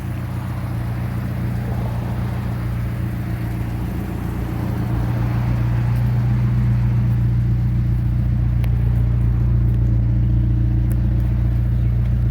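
A MK4 Volkswagen Golf GTI being driven, a steady low engine drone and road rumble that swells slightly partway through, loud and close from inside the car, with no talking.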